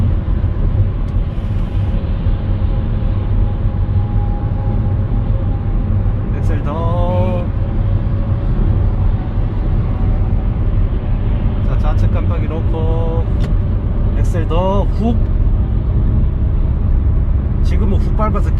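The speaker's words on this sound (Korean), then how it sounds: "엑셀 더 밟고 막 밟아야 돼." Inside a car merging onto a multi-lane highway, a steady engine drone and road rumble build under hard acceleration, while a driving instructor and a learner driver talk throughout.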